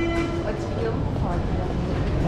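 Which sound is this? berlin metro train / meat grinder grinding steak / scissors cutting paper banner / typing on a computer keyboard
berlin metro train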